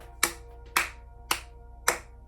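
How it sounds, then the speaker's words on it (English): Four sharp hand claps ring out at an even, unhurried pace, each crisp and close with a short decay, against a faint background hum and no speech. "I had to clap to that shit."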